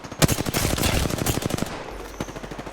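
Fast, loud automatic gunfire in the Apex Legends battle royale game, a sustained rattling stream of close shots lasting a few seconds and then tapering off.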